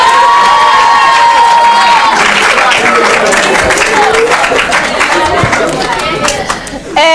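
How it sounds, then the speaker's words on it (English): Loud audience applause and cheering from a school quiz competition crowd fill the room, with shouts, chatter and hand claps layered densely throughout. "Oh, let's clap for them."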